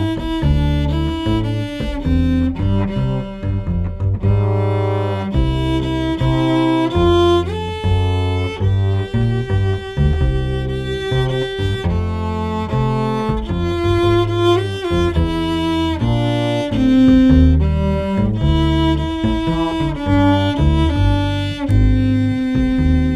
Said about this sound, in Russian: Для этого сначала мы превращаем ее в вальс.